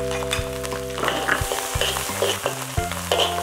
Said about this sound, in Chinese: 姜蒜米下锅，